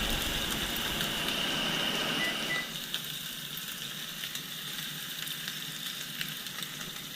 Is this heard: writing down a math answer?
no